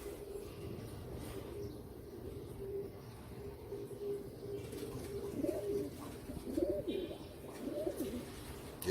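Royal Teddy breeder pigeons held in hand give soft, repeated cooing calls, close and low, rising in the second half over a faint steady background hum.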